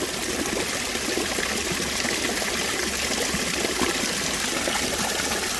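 Water pumped through a backyard waterfall rushes and trickles in a steady, close, fairly loud stream, splashing continuously without pause or talk.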